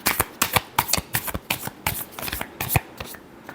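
Tarot cards are shuffled by hand, a quick series of crisp riffling bursts in an irregular rhythm, close and clear, with no talking.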